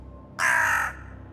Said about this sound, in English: Suddenly, a raven appeared